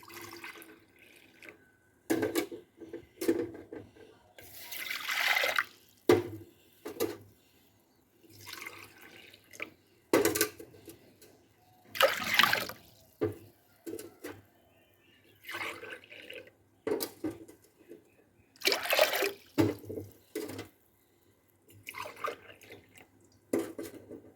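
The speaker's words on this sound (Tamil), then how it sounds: "மண்சட்டி வச்சாச்சு இப்போ அஞ்சு டம்ளர் தண்ணி இதில் விடுவோம்" Water is poured from a tumbler into a clay pot on a gas stove in several separate splashing pours with short pauses between them. The sound is close, and nobody speaks.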